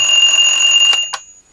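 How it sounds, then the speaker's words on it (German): A loud electronic alarm clock made for the hard of hearing rings with a piercing, steady high tone, then cuts off abruptly with a couple of clicks before fading to silence. "Ist ein Wecker für Schwerhörige."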